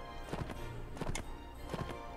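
Horse hooves clip-clopping in the video game Mount and Blade Warband, several close, heavy thuds in an uneven walking rhythm, with faint game ambience behind and no talking.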